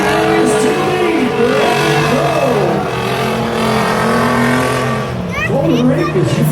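Baja race truck at a county fair track in Warren, Minnesota, its engine roaring loudly with rising and falling revs as it runs laps, a commentator talking over the noise.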